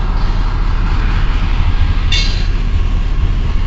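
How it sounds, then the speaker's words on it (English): A CN mixed freight train rolls past westbound, a loud continuous low rumble of railcars with a brief metallic clink partway through. "This train's going towards Flint"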